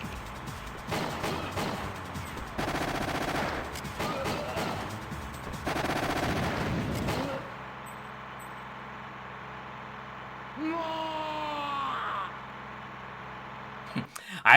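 Enemy gunfire in the video game Winback Covert Operations, with rapid shot bursts over engine-like game noise, then a quieter stretch with a tonal effect and talk.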